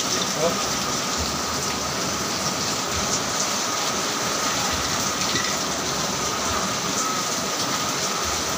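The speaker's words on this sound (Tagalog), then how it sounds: "Guys, lumakas ang ulan." Heavy rain pours outside with strong wind, making a dense, unbroken roar of drops that holds steady and loud throughout, with no talking.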